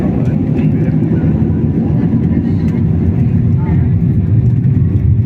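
Steady, loud low rumble of an airliner cabin just after landing at Ninoy Aquino International Airport, Manila, engines and airframe droning evenly throughout with no break.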